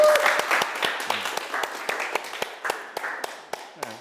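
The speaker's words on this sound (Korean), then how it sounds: "박수 한번 치고 마치는 거예요" Scattered hand clapping from a small class group at the end of a lesson, uneven and fairly close, with a murmur of voices underneath.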